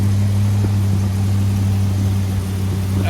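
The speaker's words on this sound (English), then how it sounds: "You can hear the exhaust leak a little bit." A big-block engine with a flat-tappet cam idles steadily at operating temperature, with a small exhaust leak adding a faint ticking over the low, even drone. The sound is close and continuous, with no talk.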